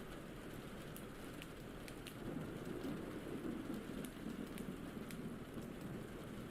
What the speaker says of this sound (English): I hear the rain, I hear the rain